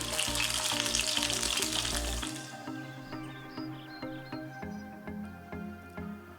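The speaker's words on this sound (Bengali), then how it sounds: "এবার ওই গরম তেলের ভেতরেই একটি তেজপাতা, 3টি ছোট এলাচ, 2 টুকরো দারুচিনি, 3-4টি লং দিয়ে দিচ্ছি।" Bay leaf, cardamom, cinnamon and cloves hit hot oil with a loud, close crackling sizzle that fades after a couple of seconds into quieter spattering pops.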